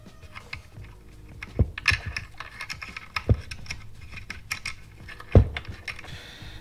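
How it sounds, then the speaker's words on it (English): A metal washer and nut clink and tap as they are handled at close range, small quiet clicks scattered irregularly during a motorcycle turn signal install, with a few sharper knocks. "We've got a washer and a nut."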